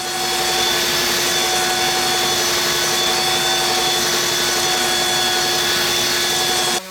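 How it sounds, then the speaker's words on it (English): A belt sander grinds across a tumbling-block 3D end grain cutting board with a loud, steady, droning whine that runs unbroken and cuts off just at the end. "also show you the method of using a belt sander."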